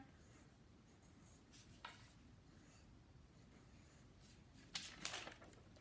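Pen or pencil scratching and rubbing across a small piece of paper while drawing hearts, a steady soft scrawl with a couple of louder strokes near the end, close and quiet with no talking.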